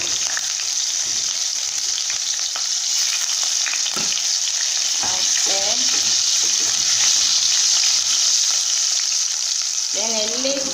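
Onions frying in vegetable oil for peppered kpomo, a loud continuous close sizzle that holds steady throughout, with occasional stirring clatters and brief squeaks under it.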